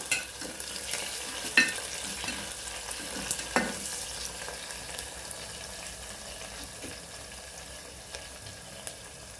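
A healthy moong recipe mixture with a bay leaf is stirred in a pan, with soft scraping and faint sizzling, a couple of sharper clinks early on, and no talking.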